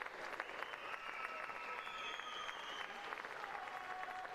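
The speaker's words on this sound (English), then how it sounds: "So big round of applause for all our swimmers." Audience applause for swimmers at a county swimming championships awards session, a faint but continuous crowd clapping in a reverberant hall, with a few whistles or cheers mixed in.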